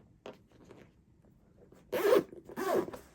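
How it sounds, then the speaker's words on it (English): A zipper pull on a lilac floral faux leather makeup bag, two quick scraping zips close by after a few faint handling clicks, with no talking. "And there's the zipper pull."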